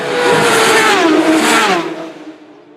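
Two Superstock racing motorcycles sweep past at speed on the Isle of Man TT road course, a loud close engine roar with a falling pitch as they pass, then fading away with no talk.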